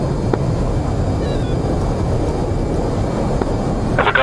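A fighter jet engine roars on afterburner in the DCS flight simulator, a steady dense rumble with faint tonal whines and a brief brighter burst near the end, no voices.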